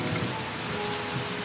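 Rain pours in a continuous even wash, with a low rumble that could be distant thunder, fairly quiet and with no talking.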